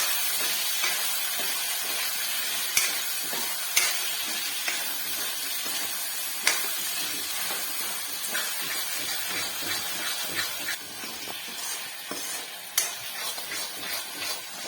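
Mutter paneer curry mixture frying in a pan, a steady close hiss and sizzle running throughout with a few sharp clicks of stirring, no voices.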